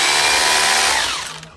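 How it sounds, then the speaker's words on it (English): Power drill boring holes during a seafront building upgrade at Jaywick Sands, a loud steady whine running alone and near, then slowing and fading as the bit winds down. "I'm going to drill holes and make this secure."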